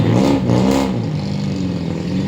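Traffic on a busy street in Mont Kiara, with car engines revving and passing close by in a continuous roar that swells early and then settles into a steady rumble.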